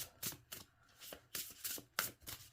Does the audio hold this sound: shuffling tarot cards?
yes